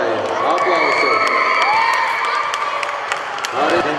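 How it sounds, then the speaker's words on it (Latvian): A crowd at the 2011 "Dumle" cup tournament applauds and cheers the third-place Rīgas Marlboro team, with steady clapping, whoops and children's shouts filling the room. "Aplausi!"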